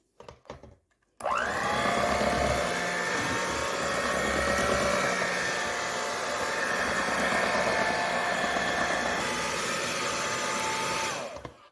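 An electric mixer beats flour into a 7-Up pound cake batter, switching on after a brief clatter and running at a steady, even whine close by for about ten seconds before cutting off, with no talking.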